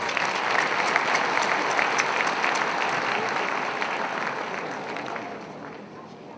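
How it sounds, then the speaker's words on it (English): Sustained applause from a gala dinner audience at an annual awards night, a dense steady clatter of many hands that tapers off slightly toward the end. "we want to give everybody here a big round of applause"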